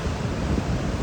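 Ocean surf rolls onto a beach under strong wind, a dense, constant roar with heavy low rumble and buffeting wind noise on the microphone, no voices.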